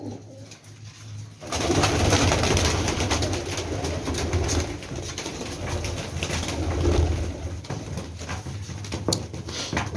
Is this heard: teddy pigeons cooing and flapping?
yes